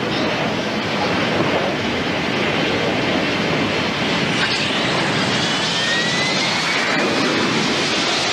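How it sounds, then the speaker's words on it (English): Fighter jets take off from American aircraft carriers in a war documentary scene, giving a continuous loud, broadband jet roar that holds steady throughout with no speech. "Aboard the three American aircraft carriers in the area, 144 fighter jets take to the air."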